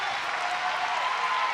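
Steady applause and crowd noise from an arena audience cheering a woman weightlifter in the 69 kg snatch at the 2017 Weightlifting World Championships, a continuous dense wash of clapping with no pauses.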